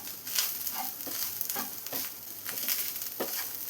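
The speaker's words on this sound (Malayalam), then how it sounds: "മീഡിയം ഫ്ലെയിമിൽ വെച്ച് ഇളക്കി കൊടുത്തൊന്ന് നന്നായി ഫ്രൈ ചെയ്തെടുക്കണം." Grated coconut and urad dal frying in a pan on medium flame for okra sambar, a steady soft sizzle with regular scraping strokes of a spoon stirring every half second or so.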